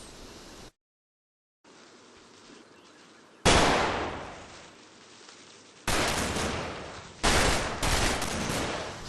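Suppressing gunfire in the Combat Mission: Market Garden war game comes as loud, harsh bursts of sustained rifle and machine-gun fire in several long stretches, with one silent gap near the start.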